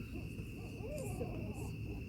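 An owl gives an angry territorial hoot during a nighttime owl prowl, a faint, distant call over a steady background of insect and cricket buzz.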